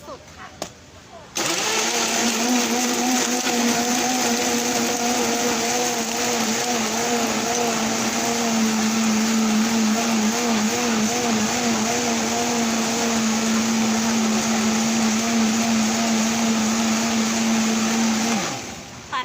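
A blender runs steadily for about seventeen seconds, crushing ice and cantaloupe into a smoothie, with a loud sustained motor whine that starts abruptly and winds down at the end.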